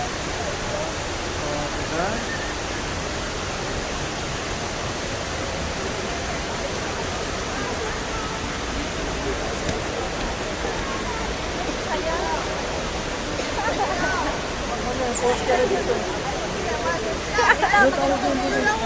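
An indoor waterfall inside Dubai Mall gives off a steady, broadband rush of falling water, with people chatting faintly under it and a few brief clicks near the end.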